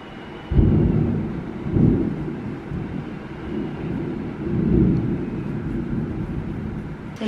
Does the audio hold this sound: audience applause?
no